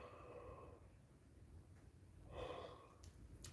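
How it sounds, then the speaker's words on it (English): A single person's yawn, soft and close, a drawn breath followed by a brief breathy release in a quiet room. "Here comes a yawn."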